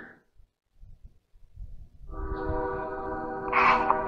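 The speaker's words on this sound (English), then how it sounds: "Train!" A train rolls in from quiet, building to a steady rumble with a sustained multi-tone horn blaring over it near the end, fairly close and loud.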